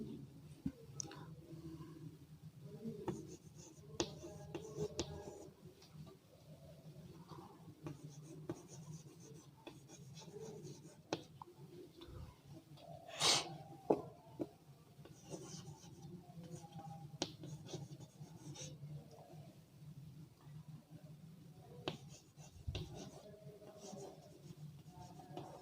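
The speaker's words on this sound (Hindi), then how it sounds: "सबसे पहले हम एक एग्जाम्पल लिखेंगे।" Pen or chalk writing out an example sentence by hand in a class lesson, faint scratchy strokes and taps scattered through quiet room noise.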